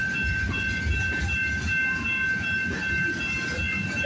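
A CP freight train of grain hopper cars and steel coil loads rolls steadily past at night, its loud continuous rumble and wheel clatter close by with a thin high steady squeal on top.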